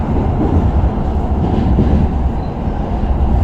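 A Pasundan economy-class passenger train runs along the line, heard from inside as a loud, steady, close low rumble and roar of wheels and carriage, with no speech.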